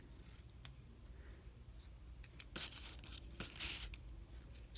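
Scissors snip through gauze fabric up close, with a series of crisp cuts and soft rustling of the cloth, fairly quiet and with no talking.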